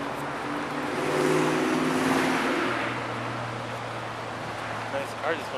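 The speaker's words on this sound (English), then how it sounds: "Nice car just went by." A car passes by on a road beside a park, its engine and tire noise swelling to a broad rush and then fading, heard fairly close with faint background sounds and no talk.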